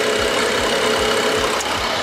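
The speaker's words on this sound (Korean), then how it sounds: "휘발유 엔진을 탑재한 만큼 차량 엔진 소음 정말 조용하고 정숙한 차량이고요" Steady, smooth hum of a gasoline car engine idling up close with the hood open, with a soft rhythmic ticking and no voices.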